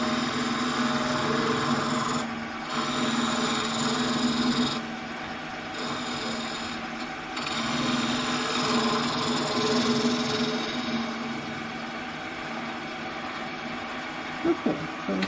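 Wood lathe spinning a burr apple blank while a chisel is pushed in to drill out a concave centre: a steady, loud machine drone and hum with continuous cutting noise throughout, no speech.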